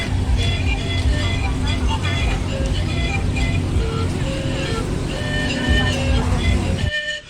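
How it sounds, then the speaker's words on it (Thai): Busy ambience at Chachoengsao railway station in Thailand, with a constant rumble, engine drone and faint tonal whines, while someone talks over it nearby. "นี่ก็คือสถานีรถไฟ ฉะเชิงเซานะครับ ซึ่งเป็นสถานีประจำจังหวัด"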